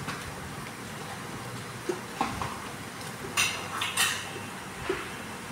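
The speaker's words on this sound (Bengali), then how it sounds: "বাটার দিয়ে পাস্তাগুলোকে ভালো করে এদিক ওদিক করে টস করে নেব" Pasta tossed with butter in a pan, with a steady sizzle under intermittent metallic clinks and scrapes of a utensil against the pan, no talking.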